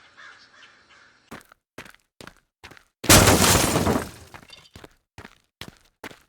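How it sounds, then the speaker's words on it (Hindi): A cheap clay pot shatters in a cartoon sound effect: one loud, sudden crash with scattering debris lasting about a second, set among repeated short crow caws before and after. "कुछ टूटने की आवाज आई।"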